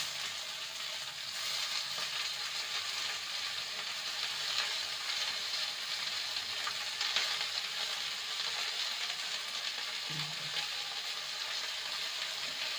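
Jute leaves dropped onto lightly fried onion in a pan, a steady close sizzle of frying with a brief stirring clatter partway through, no voices.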